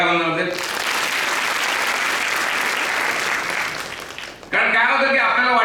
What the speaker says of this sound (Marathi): त्यामुळे या पदाधिकाऱ्यांसाठी आणि सगळ्या शिक्षकांसाठी जोरदार टाळ्या वाजवते.